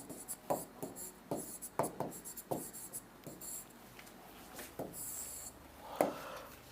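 Chalk or marker writing on a classroom board during a Hindi grammar lesson, a steady run of short scratchy strokes and taps in irregular rhythm, fairly close and moderately loud, with no voices over it.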